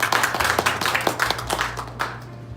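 Forum audience in a church hall clapping to welcome a presenter, a moderate, somewhat sparse patter of hands with distinct individual claps over a low steady hum, tapering off near the end.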